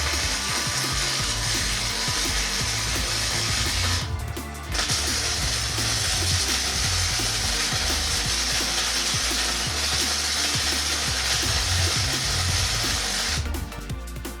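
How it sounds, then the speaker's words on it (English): Steel pieces for a home gym lat pulldown machine being welded in place, heard as a steady, loud crackling buzz that runs almost continuously, with a brief pause partway through. "I've centered it up and now welding it in place."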